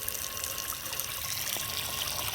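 Tap water runs steadily while a pigeons' water bowl is washed, a close, even hiss of flowing water with faint splashes and no voices.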